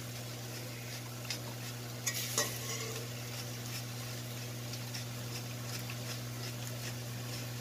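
String beans and ground pork with dried fish and black pepper are stirred in a sizzling pan, with a steady low fry under scattered scrapes and clinks of a utensil and one louder clatter near the middle.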